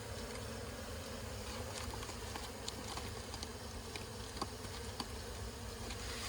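Steady, dense insect buzzing from many bees, continuous and close, with a few faint taps and clicks scattered through it.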